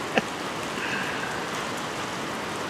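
Steady rain falls outdoors at a rural home garden, a dense, even hiss of drops on surfaces with one brief tap near the start and no talk.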